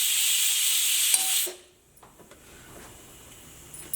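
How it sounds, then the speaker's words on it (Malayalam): A pressure cooker vents steam in a loud, sharp hiss for about a second and a half, then cuts off, leaving a quiet room. "സ്റ്റീം മുഴുവനും പോകാണ്ട് തുറക്കരുത്"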